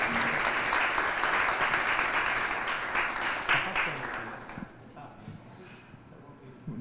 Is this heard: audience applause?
yes